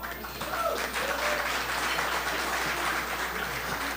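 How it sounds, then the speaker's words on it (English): Steady crowd applause at a live cooking competition night, moderately loud and continuous, rising quickly after a brief quiet start and holding evenly without talk on top. "round of applause"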